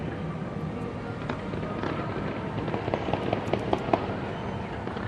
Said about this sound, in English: we can see those amazing fireworks in the distance there